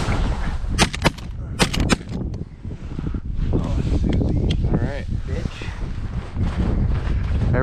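Several 20 gauge shotgun shots ring out at ducks during a snowstorm hunt on public land, sharp loud reports in quick succession over heavy wind buffeting and voices talking.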